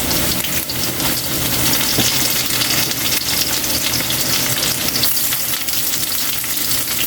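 Garlic and onion fry in a pan for octopus adobo, a loud continuous crackling sizzle with occasional stirring, close and unbroken, no voices.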